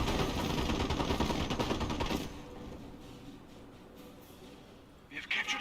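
Gunfire cuts down a sniper in the World War II strategy game Company of Heroes: about two seconds of dense, rapid automatic bursts, then a quieter background with a brief burst near the end.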